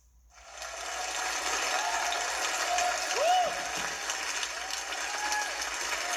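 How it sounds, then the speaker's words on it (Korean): Audience applause welcomes a guest lecturer taking the stage, a steady wash of many hands clapping that swells after a quiet start and holds for several seconds, with a few faint tonal squeaks over it and no talk. "여러분들이 이렇게 너무 영광적으로 박수를 쳐주시니까"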